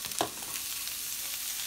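Food frying in a pan while being stirred, a steady sizzling hiss with a brief scrape of the utensil near the start, close and fairly quiet.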